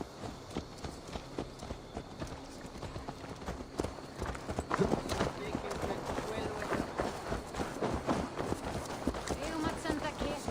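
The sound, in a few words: horse hooves in a video game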